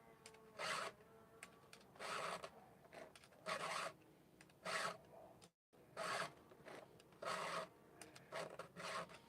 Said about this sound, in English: It's always more challenging to sharpen my saw with the opposite hand.